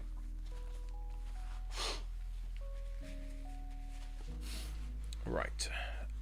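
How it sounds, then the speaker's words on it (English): A few short nasal bursts of someone blowing their nose, close and soft, over a steady background music tone. "Excuse me while I blow my nose."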